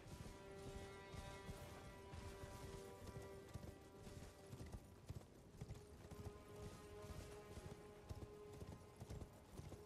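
Horse hooves clip-clop steadily in the Elden Ring video game, a continuous rhythmic trot heard at moderate loudness over a constant background hum, with an occasional faint whinny.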